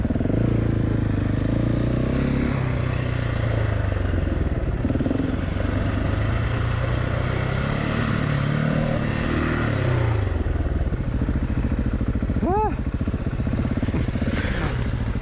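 A Husqvarna 701 single-cylinder motorcycle ridden off-road, engine droning loud and close throughout with shifting revs, gear clatter and gravelly scraping.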